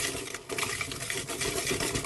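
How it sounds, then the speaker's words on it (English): A whisk stirring drop scone batter in a bowl, a steady scraping, tapping patter against the bowl with a brief pause near the start, close and continuous. "get our whisk and give it a good stir until there's no lumps"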